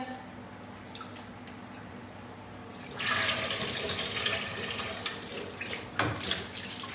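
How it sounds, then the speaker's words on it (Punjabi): Broken wheat being washed in water, quiet trickling at first, then louder sloshing, splashing and running water from about three seconds on, close by with no talking. "ਦੋ ਤਿੰਨ ਪਾਣੀਆਂ ਦੇ ਵਿੱਚ ਇਹਨੂੰ ਚੰਗੀ ਤਰ੍ਹਾਂ ਵਾਸ਼ ਕਰ ਲਿਆ ਏ"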